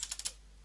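A computer keyboard gives four quick, quiet keystrokes while a command is typed during an Aircrack and Reaver installation, then falls into faint background hum.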